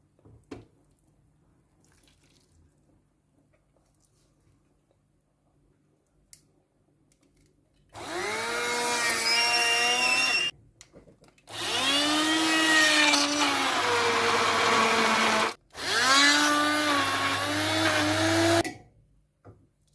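A kitchen blender grinds cooked cauliflower and almonds into a sauce for rigatoni, whirring loudly in three sustained bursts separated by short pauses, after a quiet start.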